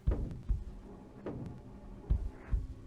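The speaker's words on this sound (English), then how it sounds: "Sounds like a heartbeat sometimes." Low, muffled throbbing pulses like a heartbeat form the ambient background in the Nancy Drew game Treasure in the Royal Tower, with soft paired thumps recurring roughly every second.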